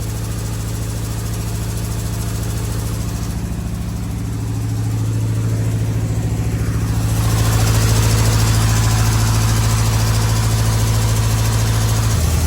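A car engine idles right after a Holley carburetor rebuild, with a steady low rumble and vibration. About halfway through, the idle rises to a fuller, louder drone, and no one speaks.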